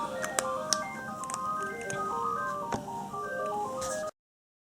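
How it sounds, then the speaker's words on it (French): A telephone rings indoors with a bright, repeating electronic melody that plays steadily for about four seconds at moderate volume, then cuts off abruptly into silence. "Téléphone qui sonne."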